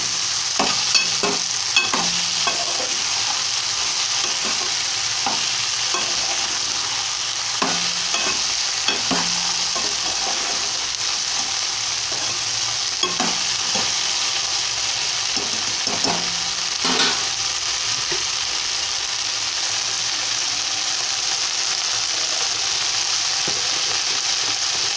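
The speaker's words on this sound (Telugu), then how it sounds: "చూడండి బెండకాయలు వేగుతున్నాయి కదా" Okra frying in a pan for a homemade curry, a constant soft sizzle with occasional clinks and scrapes of a stirring spoon, close and steady with no talk.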